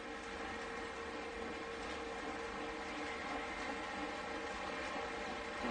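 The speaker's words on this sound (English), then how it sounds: "Can you guys hear the trains in the background?" Trains run in the background as a steady, faint, continuous rumble with a broad hiss that lasts the whole stretch, with no voices over it.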